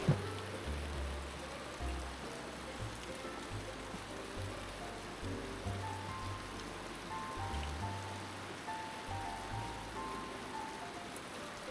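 Steady rain patters softly and continuously, a faint even hiss of falling water without any talking.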